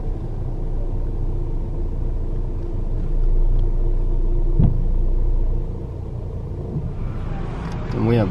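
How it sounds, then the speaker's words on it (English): Low, steady rumble from a car engine parking aboard a ferry to Siargao, swelling midway, with voices talking nearby and a brief clatter near the end. "We have parked this car on the ferry to Siargao."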